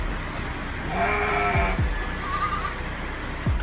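A goat gives a wavering bleat, then a couple of shorter cries, heard fairly close over steady low background noise.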